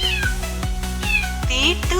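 Short, high kitten meows rise and fall over a rhythmic children's song. The rapid mewing sits clearly on top of the steady thumping beat.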